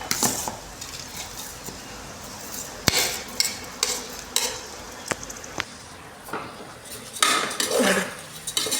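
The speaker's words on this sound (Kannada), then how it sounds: "ನೋಡಿ, ಅಕ್ಕಿನ ಇದರ ಜೊತೆ ಮಿಕ್ಸ್ ಮಾಡ್ತಾಯಿದ್ದೀನಿ." Soaked, washed Sona Masoori rice is stirred in a pot while cooking egg biryani, with scattered metal clinks and scrapes of a utensil against the pot over a soft sizzling background.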